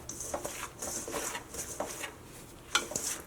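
A spoon scraping and clinking against a bowl while rice flour, green gram dal and ajwain are mixed together, giving a run of light, irregular taps and rubs at close range.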